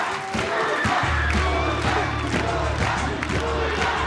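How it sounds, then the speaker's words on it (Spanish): A studio audience at a televised dance competition gala cheers and applauds, with shouting voices and clapping blended into a loud, steady roar throughout. "Recibe el aplauso, toda la emoción de este foro y de Coahuila"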